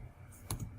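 A computer mouse gives two quick, close clicks in rapid succession while modelling carpentry components in software, over faint room hiss.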